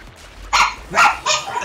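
Dogs bark in three loud, close bursts spaced about half a second apart, set off by a garbage truck's bell, with a quiet room tone in between.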